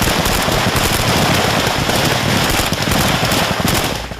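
Dense, loud bursts of gunfire rattle on continuously as the Russian army fights its way into Kyiv in Ukraine, a rapid automatic crackle filling the whole stretch.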